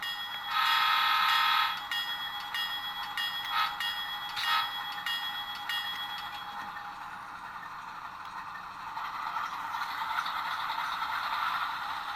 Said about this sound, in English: So horn, or bell rather.